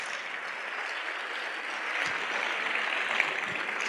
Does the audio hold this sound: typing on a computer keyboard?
no